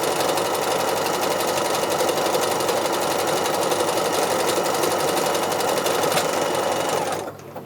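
A domestic sewing machine runs continuously at high speed while free-motion quilting a darning neck patch, a loud dense rattling whir that holds for about seven seconds before cutting out abruptly near the end.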